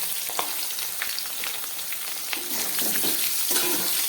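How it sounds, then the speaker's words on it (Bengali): Chopped vegetables frying in a pan with bay leaf and whole cumin, giving a dense, close crackling sizzle that grows a little fuller toward the end, with faint stirring taps and no talking. "এই কেটে রাখা সবজি দিয়ে আমি ভালো করে ভেজে নেব"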